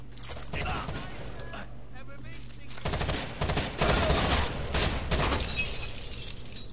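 Gunfire in the tactical shooter game Rainbow Six Vegas 2, dense bursts of shots and impacts growing louder after a few seconds and continuing steadily, with game ambience throughout.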